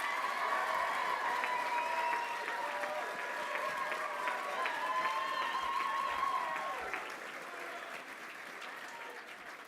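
A large graduation audience applauds and cheers at a University of West London ceremony, with dense sustained clapping and raised voices that gradually ease off toward the end.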